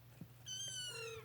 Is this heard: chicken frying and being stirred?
no